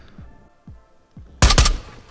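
A silenced gun fired in Ghosts of Tabor, a quick burst of two or three suppressed cracks close by, preceded by soft thumping footsteps or heartbeat-like pulses.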